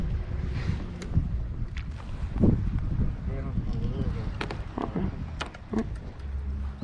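Wind gusts over open water while fishing from a kayak, a steady rushing roar heavy in the low end with bursts of microphone buffeting, and people talking over it.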